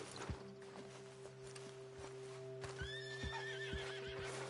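A horse in the video game Red Dead Redemption 2 whinnies over steady hoof clip-clops and a faint electronic hum, the neigh rising clearly midway through.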